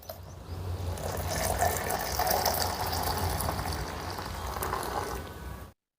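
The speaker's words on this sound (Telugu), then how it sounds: "ఈ అర లీటర్ పెరిగి నేను ముప్పావు లీటర్ వాటర్ వేస్తున్నాను కూలింగ్ వాటరు" Cold cooling water is poured steadily into curd to make buttermilk, a continuous close gushing splash that runs for several seconds and then stops abruptly, with no voices.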